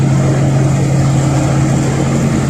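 A reefer trailer's engine runs nearby in a loud, steady drone with a constant low hum and broad mechanical noise, unchanging throughout and with no talk.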